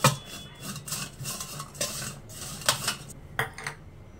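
Butter being stirred into air-fried peri peri french fries, with repeated scraping and clattering of utensil against a metal basket or bowl in uneven bursts, close and fairly loud.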